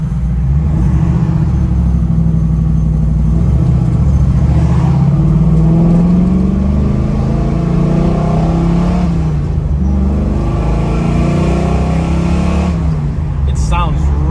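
A 1966 Ford Mustang show car's engine runs steadily close by, a deep continuous rumble with rising and falling revs and no talk over it.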